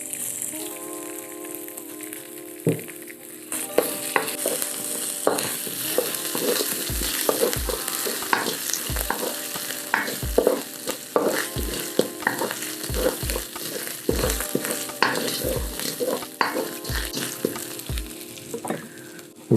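Ginger garlic paste hits a pan of toasted spices for a methi (fenugreek) curry, bursting into a loud, steady sizzle with sharp crackles and occasional stirring clatters, no voices over it.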